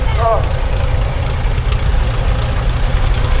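A 1943 Case LA tractor engine idles steadily with a deep, low rumble throughout, heard at an outdoor transport festival arena, with a brief voice-like tone near the start.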